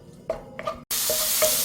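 Pork belly stir-frying in a pan, with a few stirring scrapes and then a loud, steady sizzle that fills the rest of the moment up close.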